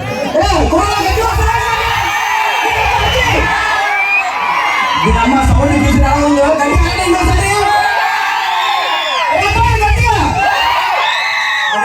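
A loud crowd at an outdoor dance performance event shouts and cheers with overlapping excited voices and children yelling, rising and falling in bursts; someone speaks amid the noise.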